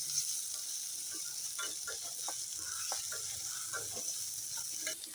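Onions sizzle in hot oil with fennel seeds while being stirred, a steady close frying hiss broken by scattered light scraping clicks from the spatula.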